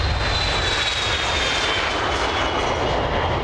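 Steady, loud drone of a surveillance aircraft's engines, like an AWACS early-warning patrol plane, heard as a continuous broadband roar with a faint high whine throughout and no talk.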